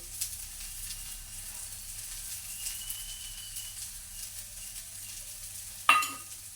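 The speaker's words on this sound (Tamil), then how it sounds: "அப்படியே போட்டு அதையும் நாங்கள் மிக்ஸ் பண்ணிடுவோம்" Okra stir-fry with chili powder is stirred in a frying pan, giving a faint, steady sizzle and soft scraping, then a sharp clink of the utensil near the end.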